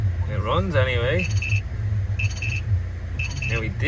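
A Citroen C4 Picasso with an engine fault idles with a steady low rumble, while a person talks briefly and a repeating electronic beep pattern chimes three times.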